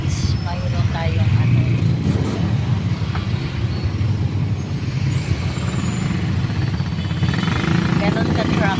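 Monday morning traffic on a city street in Pasig City: a dense, continuous rumble of car, truck and motorcycle engines with passing vehicles and occasional brake hiss, loud and close throughout.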